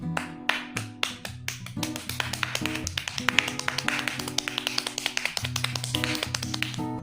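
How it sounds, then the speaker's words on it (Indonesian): Rapid hand clapping as a trick, sharp quick claps in fast succession running steadily over a bed of background music. "tepuk tangan dengan cepat"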